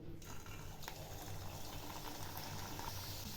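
Sweet vegetarian chorui pakhi dumplings sizzle and bubble in hot oil in a wok, a steady, dense frying hiss that runs continuously and close by without talk.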